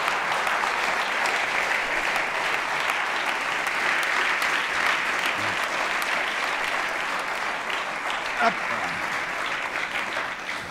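A studio audience applauds warmly to welcome a talk-show guest, the federal health minister, a dense steady clapping that fills the room and carries on for about ten seconds.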